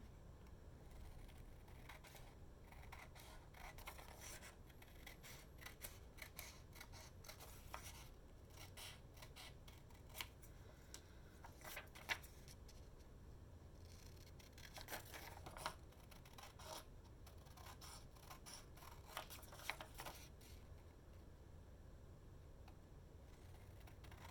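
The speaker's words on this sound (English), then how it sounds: "So let me cut this down." Scissors cut paper in a quiet indoor crafting setting, a faint run of soft snips and rustling that continues throughout, with a few brief sharper clicks.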